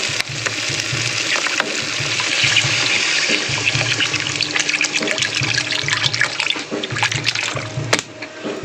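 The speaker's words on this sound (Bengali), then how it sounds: "তো আমি এর মধ্যে এবারে জলটা দিয়ে দেবো।" Water is poured into spice paste frying in oil for a boal fish curry, making a loud, steady rushing and bubbling wash that continues almost unbroken throughout.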